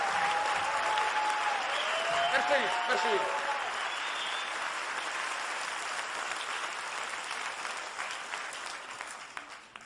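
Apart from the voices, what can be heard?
audience applause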